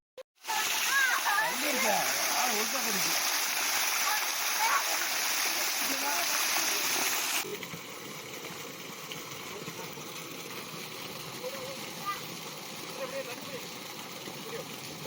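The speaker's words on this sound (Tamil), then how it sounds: "இங்கதே அந்த அருவியில போய் குளிப்போம்" Rushing water of the Karantha Malai waterfall splashes steadily, loud and close at first, then drops to a quieter, more distant wash; a voice talks briefly over it.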